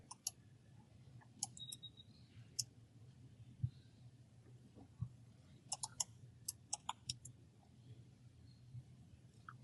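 Keys click on a computer keyboard as a message is typed, in scattered quiet bursts of light taps over a low background hum, faint and close.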